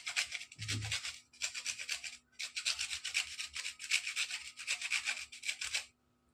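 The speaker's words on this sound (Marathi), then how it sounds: "हे बघा खोबरं किसून झालं आहे" Coconut is grated by hand over a dish for a carrot and semolina barfi, a quick series of rasping scraping strokes in bursts with short pauses, close and fairly quiet.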